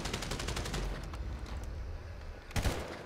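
Rapid bursts of automatic gunfire from Grand Theft Auto 5 rattle in quick repeated shots, pause, then return with a louder volley near the end.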